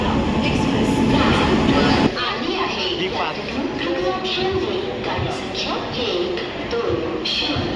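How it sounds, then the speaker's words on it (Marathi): Janashatabdi Express train rolling into a crowded station platform on the Konkan route, loud continuous rumble and rattling wheels nearby, with people talking throughout. "आली ट्रेन आमची जनशताब्दी एक्सप्रेस"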